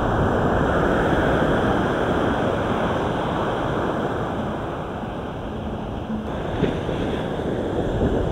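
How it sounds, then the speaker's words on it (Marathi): Rough sea waves break on a Kerala beach in a steady, loud roar, with wind buffeting the microphone. The surf eases slightly midway and then swells again. "असं वाटतंय की समुद्र खवळलाय लिटरली"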